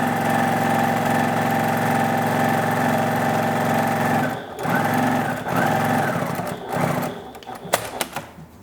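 A sewing machine runs continuously and loudly up close while gathering lace ruffles for a baby dress apron, then slows into shorter bursts with pauses and a few clicks near the end.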